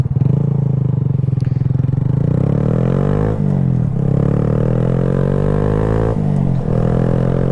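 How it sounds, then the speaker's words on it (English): A Honda Grom small motorcycle being ridden, its engine droning loud and close with steady revving, the pitch dipping and climbing again at each gear change. "remember when I had the Grom, my very first bike"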